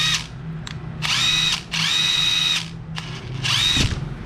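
A cordless impact wrench drives bolts in several short bursts, each a loud buzzing hammer-whir lasting about half a second to a second, separated by brief pauses, with no talk.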